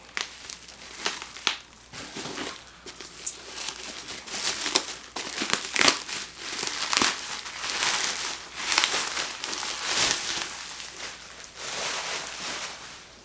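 Packing paper crinkling as a box holding an Evike Mandalorian helmet is unpacked, close irregular rustles and crackles that keep going for over ten seconds with no talk.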